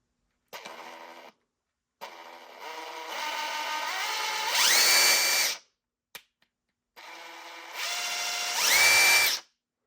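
An 18V brushless cordless impact wrench run free at setting 3, fired in three bursts, each whirring up and then rising to a higher, louder whine before cutting off, with short silences between.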